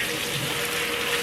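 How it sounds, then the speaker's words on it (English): A tap runs steadily while food is rinsed under it for a short moment, a constant close hiss of flowing water with no other sounds. "with running water. Wash. Nice and clean. Wash them out."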